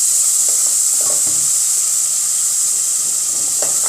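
Masala with turmeric and crushed red chilli fries in a pan for kaddu kofta, a constant bright sizzling hiss with a few soft stirring knocks underneath, close and steady, no talking.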